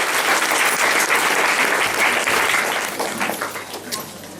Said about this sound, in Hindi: पहली बार है, जोरदार ताली से धन्यवाद